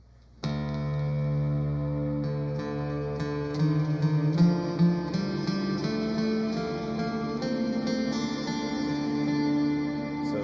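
An electric guitar with echo and reverb playing a slow run of single notes up a D Phrygian scale, ringing and sustained, with no voices.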